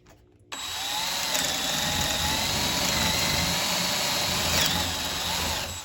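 A power drill fitted with a paddle bit bores steadily into wood, starting after a brief quiet moment and then holding a loud, continuous whirring grind with slight pitch wobbles.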